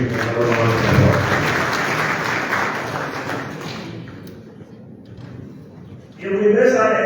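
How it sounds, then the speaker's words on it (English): An audience at a meeting of West African central bank governors in Liberia claps loudly for several seconds, then the applause fades out and a voice starts speaking. "Please give him a round of applause."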